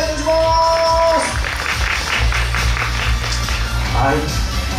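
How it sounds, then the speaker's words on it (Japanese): An audience at a university idol competition gives sustained applause, a dense patter of clapping that fills the room while an announcer speaks over it. "大きな拍手をお願いいたします。"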